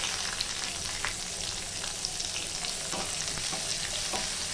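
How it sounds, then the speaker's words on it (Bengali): Chopped onion frying in oil in a pan, a continuous dense sizzle heard up close, broken by light scrapes of a spoon being stirred through, with no voices over it. "পেঁয়াজটা ভাজা হতে আমি একটা পেস্ট বানিয়ে নেব।"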